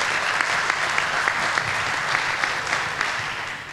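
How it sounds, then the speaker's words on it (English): A conference audience applauds a speaker introduced for a talk on biometric ID cards in India, with dense, steady clapping from a crowd that fills the hall and stays loud throughout. "Just showing up gets you applause."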